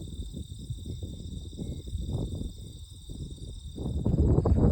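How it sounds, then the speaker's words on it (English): Crickets chirr in a steady, continuous high drone with birds over a low, rustling farm background that grows slightly louder at the end. "I love hearing the crickets and the birds"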